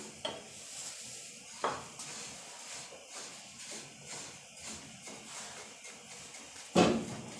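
Sesame seeds dry-roasting in a pan for til ladoo, stirred with scattered light scraping and rustling, plus a couple of sharper clinks against the pan, fairly quiet and with no voices.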